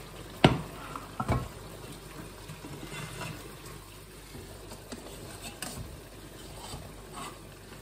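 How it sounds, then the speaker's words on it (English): Pasta and meatballs simmering and sizzling gently in sauce in a frying pan over medium heat, with a couple of louder clunks near the start and a soft steady bubbling throughout. "We will cook pasta and meatballs in the sauce now on medium heat for a couple of minutes"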